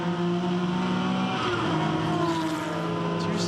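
A touring car roars at full throttle during a Touring Car Masters race at Hidden Valley, its engine note steady and loud from start to finish, pitch shifting slightly as it pulls hard, heard close as if from on board.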